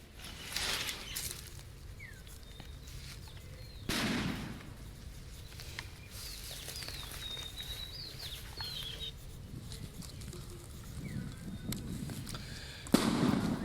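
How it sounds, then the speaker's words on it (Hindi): Sharp blasts from bombs thrown during election violence go off several times at a distance, each a sudden loud bang with a lingering rumble, while birds chirp faintly in the open air between them. "किस तरह से बम फेंका जा रहा है और धमाका हो रहा है"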